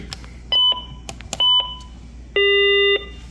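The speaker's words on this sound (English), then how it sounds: "It's ringing." Three electronic tones ring out in sequence from a Wuloo S600 wireless home intercom, two short beeps followed by a longer, steadier buzz-like ring, clear and close with faint background noise.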